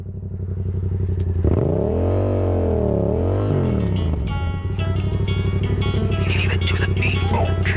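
A Yamaha MT-07 motorcycle does a burnout, its engine held at a steady loud drone, then revved hard in a rising and falling sweep before settling back to a rough, sustained roar with clattering grit.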